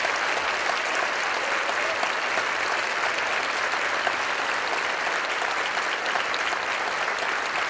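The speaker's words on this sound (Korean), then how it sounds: "우리 박수로 환영했으면 좋겠습니다" An audience applauds to welcome guests at a school event, with dense, even clapping that holds steady and continuous from start to finish and no talk over it.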